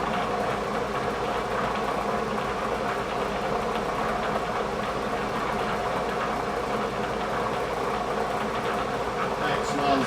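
A Bridgeport milling machine cutting a slot in a vise stop, producing a steady mechanical drone with a low motor hum and a continuous grinding whir, close and unbroken throughout.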